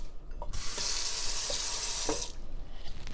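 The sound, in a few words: rinsing a chopping board under the tap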